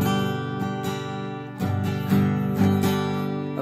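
An acoustic guitar chord, a G, strummed repeatedly in a slow, even rhythm, ringing clearly and close with no talk over it.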